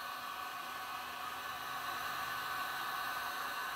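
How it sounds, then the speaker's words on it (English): Heat gun with a nozzle attachment blowing hot air over resin on the back of a canvas, a steady, broad whooshing hiss held at even strength throughout, fairly quiet and unaccompanied by speech. "just take my heat gun, and I have this attachment on the end of it, and just heat it up on a little bit"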